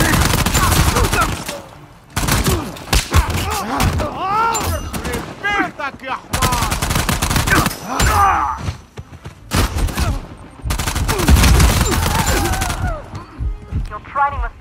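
Rapid bursts of gunfire from the Uncharted 4 multiplayer survival mode, loud and near, firing in dense clusters with short pauses between volleys, while voices talk and shout over the shooting.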